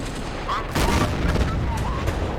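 A T-37/76 tank gun fires in Steel Fury, one loud booming shot with a long rumbling tail over constant engine and battlefield noise, and no talking.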